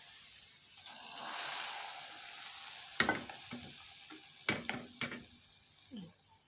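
Vegetables sizzle quietly in a frying pan as they are stirred, the soft hiss punctuated by several sharp clinks and scrapes of a utensil against the pan.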